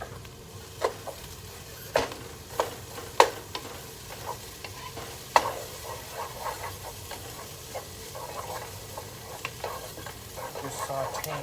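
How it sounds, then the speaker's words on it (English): Food sautés in a pan with a steady sizzle under repeated stirring clicks and scrapes of a utensil, close and moderately loud, with no one talking. "Just sauteing it down."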